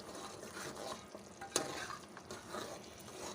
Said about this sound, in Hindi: ये भी डालकर हम अच्छी तरह से इसको भून लेंगे।